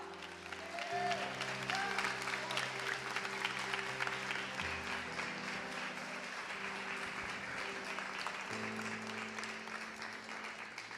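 A church congregation applauds together in a sustained wash of clapping that holds steady throughout, blended with a steady musical tone underneath.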